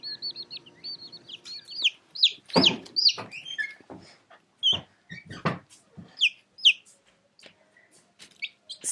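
A broody mother hen clucking softly beside her newly hatched chicks, whose high thin peeps chirp repeatedly in quick runs, with scattered rustling and soft knocks close by in a quiet setting.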